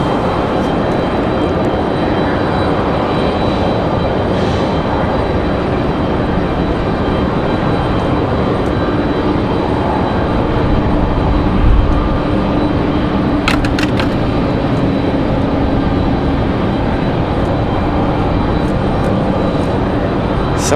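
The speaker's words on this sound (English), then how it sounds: "Southwest looking like they were trying to get off the ground fairly early" A Southwest Boeing 737 MAX 8 departs Raleigh-Durham airport, its jet engines roaring as a steady, broad, distant-to-moderate rumble that swells slightly midway and holds throughout.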